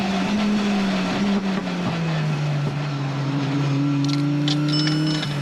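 A race car engine screaming steadily around the Paul Ricard circuit, heard from on board, loud and continuous with the pitch rising and falling through gear changes and a brief whine near the end.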